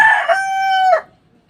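A rooster crows once among hens on a Philippine farm, a loud, close, drawn-out call that rises and then holds a steady tone before cutting off into near silence.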